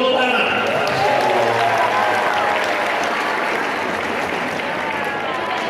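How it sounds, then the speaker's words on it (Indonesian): Loud, dense clapping from a large crowd at an Islamic New Year religious gathering in Tebing Tinggi, filling the whole stretch and tapering slightly near the end, with voices faintly underneath. "Beri tepuk tangan."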